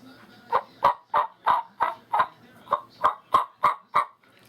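A turkey call imitates a hen's soft yelping in a quick, even series of about a dozen short, nasal notes, close and clear against a quiet background.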